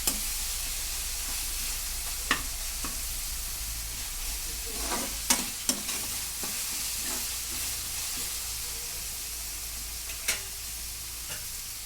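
Eggs fry in a hot pan for Telugu egg curry, a steady low sizzle running throughout with occasional sharper pops and spatters, close and fairly quiet, no voices.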